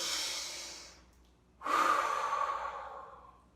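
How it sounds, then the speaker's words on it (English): Slow, deep breathing during a drama class warm-up: one long, airy breath fades out, and after a short pause a stronger, louder breath follows and slowly tapers off. Close and alone, with no talk. "So breathing in and out very slowly."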